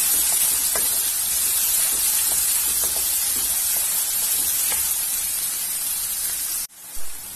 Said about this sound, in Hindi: प्याज को हमें ट्रांसलूसेंट होने तक पकाना है।